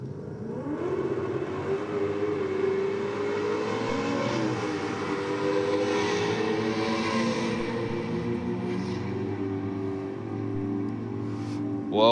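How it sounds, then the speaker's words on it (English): A Ford Falcon race car makes a full-throttle drag pass, its engine droning steadily with rising, sweeping tones as it pulls away at a moderate distance. "Falcons gone through for a full noise pass there"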